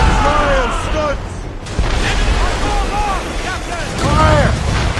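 Naval cannons boom in a sea battle aboard a sailing ship in Assassin's Creed Rogue, with heavy, rumbling blasts under a constant roar. Shouting voices cut through repeatedly.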